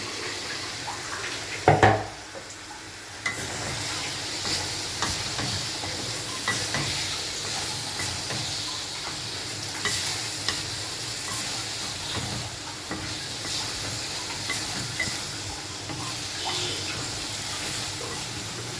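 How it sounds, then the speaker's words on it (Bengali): Spice paste for chicken biryani being stir-fried in a pan, a continuous sizzle with soft scraping stirs, one louder clatter early on, then a steady close bed of frying with no talking. "এবার মশলাটাকে বেশ ভালোভাবে কষাবো"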